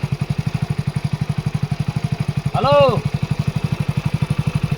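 A motorcycle engine runs at a steady idle, its close, even putter of rapid pulses continuing throughout, while a man briefly calls out over it.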